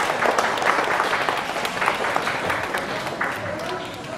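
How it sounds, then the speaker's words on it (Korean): An audience at a Nowon cultural hall applauds to welcome a young gayageum player onto the stage. Continuous, lively clapping fills the room from start to finish, with no talk over it. "박수로 맞아주세요."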